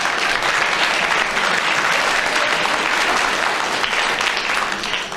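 A studio audience at a BBC radio comedy panel game applauds loudly, a dense, steady roar of clapping that holds evenly throughout with no speech over it.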